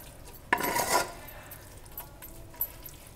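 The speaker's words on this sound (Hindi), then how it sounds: "अब हम इसमें ऐड करेंगे जिंजर गार्लिक पेस्ट, उसे थोड़ा चलाना है।" Ginger garlic paste being stirred into jackfruit curry in a pan, with one brief burst of scraping and sizzling followed by a few faint taps of the spoon against the pan.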